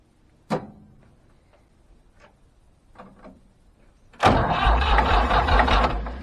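A Ford 555 tractor engine cranks over with a sharp start, then settles into a loud, steady, rumbling idle that keeps running to the end after a few faint clicks and taps.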